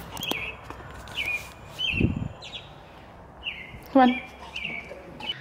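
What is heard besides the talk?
birds chirping in the backyard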